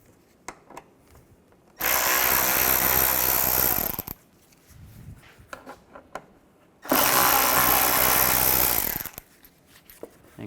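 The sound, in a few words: driver removing screws with a T25 Torx bit from Mini Cooper bumper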